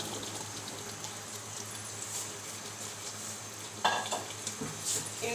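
White chickpeas for Lahori chole roasting in a pan, a soft low sizzle with quiet stirring and a brief clatter of the spoon against the pan near the end.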